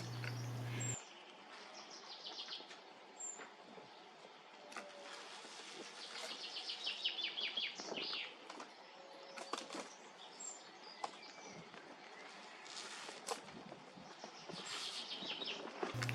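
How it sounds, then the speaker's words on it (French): Female house sparrow chirps and brief flutters of wings, close and intermittent, over a quiet outdoor garden background. "C'est un moineau domestique femelle."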